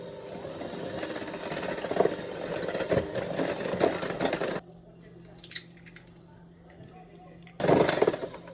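An electric mixer whirs loudly while beating eggs into plain cake batter, then cuts out for a few seconds of near quiet before starting up again with a burst of busy whirring.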